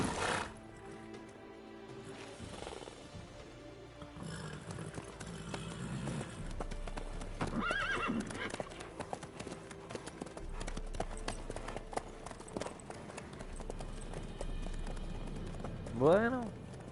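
Hooves of a horse clip-clopping at a run in The Witcher 3, a steady rhythmic beat sounding throughout under in-game dialogue and ambient music.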